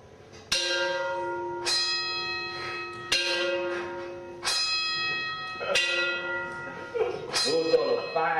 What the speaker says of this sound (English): Those are the 5 a.m.